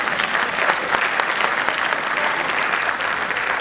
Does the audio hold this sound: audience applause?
yes